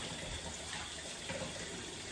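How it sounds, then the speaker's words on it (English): Cold tap water runs over a boiled egg in a sink, giving a steady, fairly quiet rush of water throughout. "run it under some cold water"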